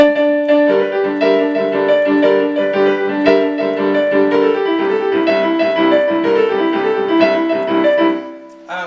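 A piano plays part one of a Junker Blues: rolling bass figures under repeated bluesy chords in a steady rhythm, close and clear, alone until it stops at the end.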